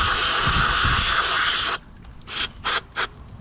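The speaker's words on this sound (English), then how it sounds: "Spray a lot of cleaner." Throttle body cleaner sprayed heavily from an aerosol can onto the throttle body of a 2007 Ford F-150 4.2L, a loud continuous hiss that stops abruptly, followed by three short sharp spray bursts.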